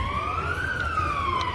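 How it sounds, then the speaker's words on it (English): An ambulance siren passes nearby on a street, a loud wailing tone that rises and falls steadily over a background of traffic rumble. "Hello, another ambulance."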